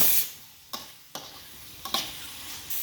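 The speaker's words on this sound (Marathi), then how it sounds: "आणि इथे आपण टोमॅटो टाकणार आहोत आणि तोही आपण चांगला परतून घेणार आहोत." Tomatoes and vegetables sauté in a pan for pav bhaji, a quiet sizzle broken by four or five sharp spatula scrapes and clacks at irregular intervals, no voices.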